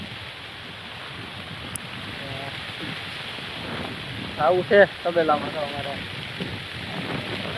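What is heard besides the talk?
rain falling at village dairy farm stable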